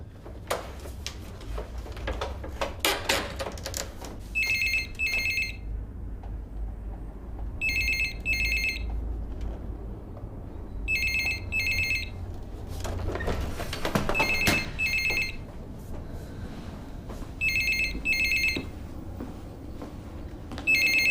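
A telephone rings out repeatedly during an outgoing call, paired electronic trills recurring every few seconds at a moderate level over low background rumble and scattered knocks.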